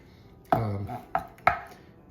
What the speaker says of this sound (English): I don't want to have to pulse this too much in the food processor